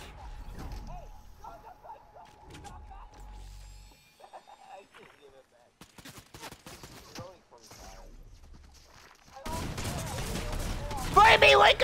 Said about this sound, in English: Now you're being shot at!